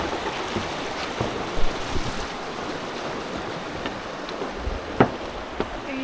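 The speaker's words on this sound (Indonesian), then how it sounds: "Ini sambil nyemplung sungai," Someone wades through a flowing river in the countryside near a collapsed bridge, with water rushing and splashing continuously close by, a few sharper splashes standing out over the steady broadband wash.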